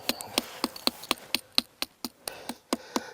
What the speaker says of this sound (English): We break it up with this little sledgehammer.